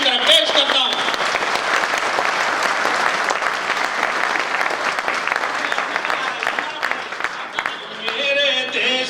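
An audience at a Hindi-Urdu patriotic poetry recital applauds loudly and steadily for several seconds, with a voice speaking over the clapping near the start and again as it fades at the end.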